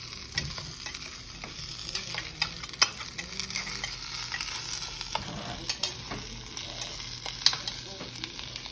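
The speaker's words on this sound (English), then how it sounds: "now that we put it in the pan, let's start stirring it" Mexican corn is stirred in a hot pan, with a soft background sizzle and frequent scraping, clicking strokes of the utensil against the pan at an uneven pace, with no talking.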